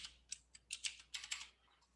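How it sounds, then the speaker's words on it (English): Quick, uneven taps on a computer keyboard, about a dozen soft keystrokes in short clusters, close and faint in a quiet room. "I'll type in right click and type in scale"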